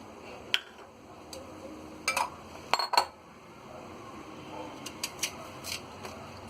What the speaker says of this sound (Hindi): ये आम हमने अच्छी तरह छील लिया है, अब हम इसे काट लेंगे।